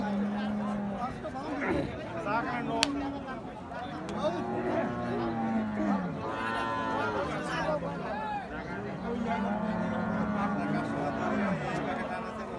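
A Sahiwal cow lows several times in long, drawn-out moos, with people chatting nearby in the background at a cattle market.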